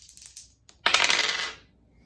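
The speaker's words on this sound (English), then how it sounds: "Let's roll up the dice to see what we have here." Dice rolled for an astrology reading, a short bright clattering tumble on a hard surface that settles after about a second.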